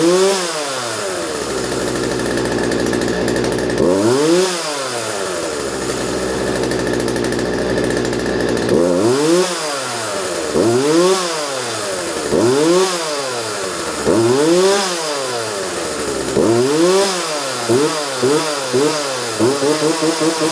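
A repaired chainsaw restarts without choke, then revs repeatedly in sharp rising-and-falling bursts between rough idling, close and loud, with short quick blips toward the end.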